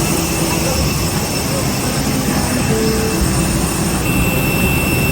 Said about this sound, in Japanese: 飛行機に乗ります。